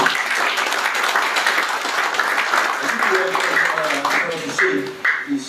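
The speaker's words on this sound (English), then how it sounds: "I think they need a clap of hands." Graduation-ceremony audience clapping steadily and densely throughout, a broad even wash of many hands with some voices mixed in.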